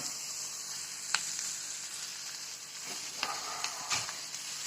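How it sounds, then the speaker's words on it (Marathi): Potatoes are stirred into onion, curry leaves and green chilli frying in a pan, giving a steady close sizzle with a few sharper scraping stirs of a spoon. "बटाटे टाकून चांगले हलवून घेते"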